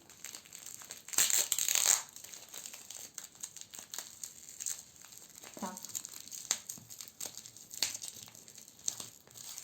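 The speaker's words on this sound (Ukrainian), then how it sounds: "Далі, далі розпаковую." Gift packaging being unwrapped, with close, fairly quiet plastic crinkling and crumpling in scattered bursts, one louder rustle near the start, and small taps and handling noises between.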